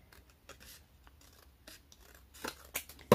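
Scissors cut paper along a template for a scrapbook house project, several close, crisp snips spaced irregularly, growing louder toward the end, with no voices.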